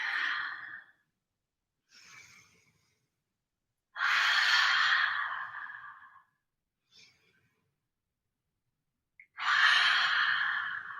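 Deep, audible breaths during a live yoga stretching session: long exhales and shorter inhales alternate in a slow, regular rhythm with clear silent gaps between them, close and alone.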